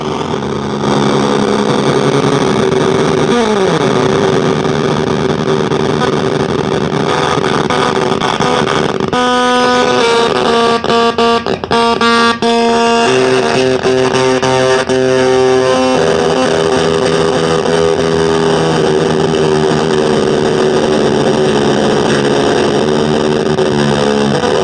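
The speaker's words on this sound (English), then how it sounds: "So what it is basically kind of like a lo-fi distortion." Heavily distorted, fuzzy electric guitar playing throughout through a circuit-bent Yamaha guitar tuner used as lo-fi distortion, loud and gritty with a buzzy crunch and sustained chords shifting midway.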